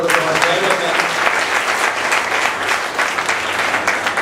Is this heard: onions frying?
no